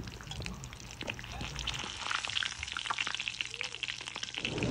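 Shami kebabs finishing in hot frying oil, a crackling sizzle with some liquid bubbling and pan clatter as pieces are lifted out, brief and fairly close.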